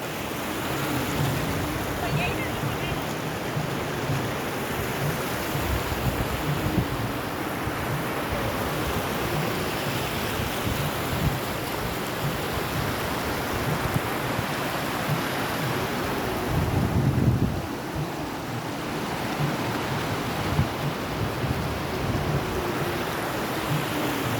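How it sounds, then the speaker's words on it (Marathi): A continuous broad rush of water gushing over rocks in many streams fills the whole stretch, steady and fairly loud, with a brief louder surge partway through. "खूपच छान आणि पूर्ण असा खळखळाट या ठिकाणी आहे पाण्याचा"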